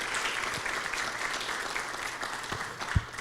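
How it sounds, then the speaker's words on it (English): Moderate, somewhat distant applause from an audience at a district meeting, continuous clapping with a few louder nearby claps and thumps toward the end. "Let's just give him one more round of applause."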